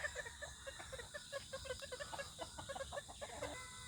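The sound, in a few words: mother hen clucking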